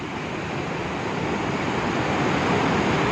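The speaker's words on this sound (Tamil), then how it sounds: "எங்கள் ஊரில் தண்ணி பாருங்கள் எவ்வளோ சூப்பராக போகுது" Water rushes at the Mayanur dam in a steady, broad roar, loud and continuous with wind-like texture, building slightly in strength toward the end.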